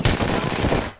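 Rapid automatic gunfire in the Apex Legends video game, a dense burst of shots lasting about a second, loud and close.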